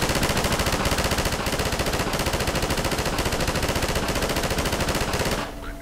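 Dense automatic gunfire in the video game Half-Life 2, a loud, rapid, unbroken stream of shots with no pauses for nearly six seconds before it cuts off abruptly at the end.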